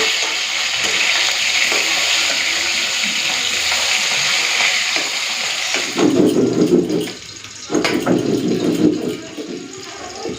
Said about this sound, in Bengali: এদিকে কিন্তু মাছটা একটু ভাজা হয়ে গেছে উঠিয়ে দিই